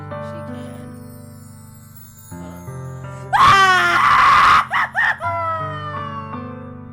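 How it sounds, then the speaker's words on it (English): A girl character in the Doki Doki Literature Club visual novel lets out a long, loud scream, then a few shorter wailing bursts, over a soft, sustained musical backdrop. "Clutching her head with both hands, she screams as loudly as she can."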